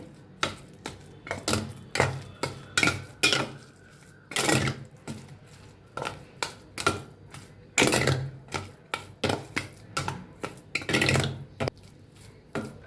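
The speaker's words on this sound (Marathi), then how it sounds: "आता बघा एक चमचा इलायची पावडर घालते छान मिक्स करून घेऊया" Spoon working rava semolina and cardamom powder together in a bowl, a long run of close, quick knocking and scraping strokes with brief pauses, no talk.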